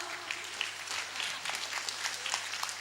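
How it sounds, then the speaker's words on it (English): Applause at a school function, with scattered clapping at a fairly faint, distant level that continues evenly throughout. "Please, a big round of applause for her."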